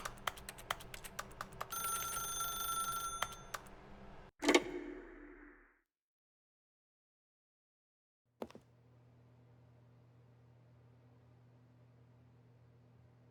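A phone rings in The Stanley Parable, a dense electronic bell trill lasting several seconds, then cutting off with a clunk as it is answered, followed by a quiet low hum and a faint click.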